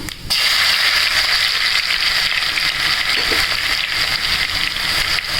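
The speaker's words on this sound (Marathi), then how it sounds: "लसूण छान हलवून घ्यायचं आहे। व्यवस्थित लालसर होईपर्यंत तो व्यवस्थित तळायचा आहे।" Garlic sizzles steadily in hot oil with cumin for a Maharashtrian dal tadka tempering, making a loud, continuous hissing crackle close by.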